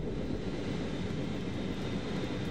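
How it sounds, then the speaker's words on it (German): A passenger airplane lands in Moscow, its engines a loud, steady broadband roar close by, without voices. "Das Flugzeug, das Edward Snowden an Bord haben soll, ist in Moskau gelandet."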